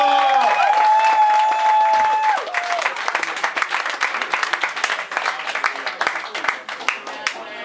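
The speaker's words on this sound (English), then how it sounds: "huge round of applause for Mr." A stand-up comedy club audience breaks into sustained applause and cheering for a comedian being introduced, dense clapping that stays loud and steady after a brief tonal sound at the start.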